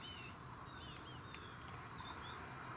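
A black-throated green warbler sings during spring warbler migration: faint, thin high notes drift over a steady hiss of outdoor background noise, with one brighter chirp near the end.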